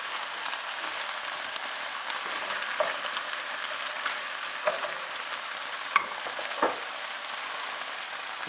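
Garlic and tomato paste sizzle steadily in a hot pan, a constant bright frying hiss with occasional sharper pops and stirring scrapes, moderately close and without voices.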